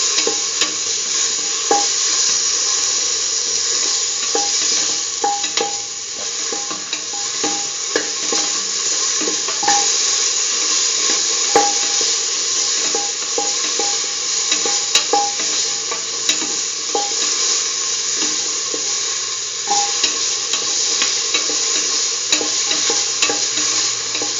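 Tomato pieces sautéing in a pot for a lentil and potato stew, a loud steady sizzle with frequent small spatula taps and scrapes throughout.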